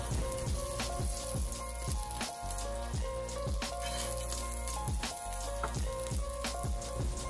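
Pomfret fish frying in hot oil, South Indian style, giving a steady dense sizzle with intermittent sharp pops and crackles, close and continuous with no talk.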